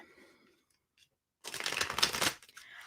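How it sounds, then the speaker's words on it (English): A deck of tarot cards being shuffled, a quick dense riffle of card edges snapping together for about a second after a near-silent pause, close to the microphone. "I'm going to do some shuffling"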